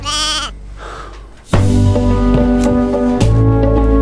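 Sheep bleat loudly nearby, a short wavering cry followed by several long, strained calls after a brief lull.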